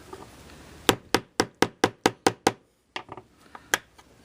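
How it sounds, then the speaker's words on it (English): A screwdriver struck with a pair of pliers while working on an Arvin 47R38 radio: a quick run of about seven sharp, evenly spaced metallic taps, then a pause and a few slower, scattered hits, close and clear. "by using the screwdriver here and a pair of pliers, you take and hit like this."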